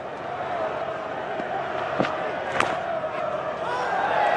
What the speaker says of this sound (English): a lot of the Chestler Street crowd are staying to see a local hero, Steve Harmison